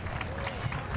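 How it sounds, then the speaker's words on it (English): A crowd at a Cape Cod League baseball game at Veterans Field gives a steady round of applause, a faint, even wash of clapping with an announcer talking over it. "and then a round of applause from everyone involved."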